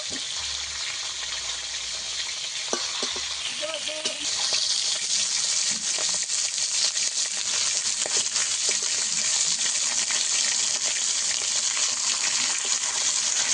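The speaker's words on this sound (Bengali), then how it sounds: "এই মাছগুলো তো সাবধানে ভাজতে হবে।" Aar fish frying gently in hot oil for a Bengali-style rosa, a steady close hiss and crackle running throughout with occasional clinks and small spatters.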